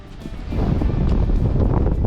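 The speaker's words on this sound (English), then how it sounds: "The wind's blowing pretty bad" Strong wind buffets an outdoor work site where an aspen log railing is being installed, a rough, close rumble of gusts striking the microphone, rising after a moment and staying loud.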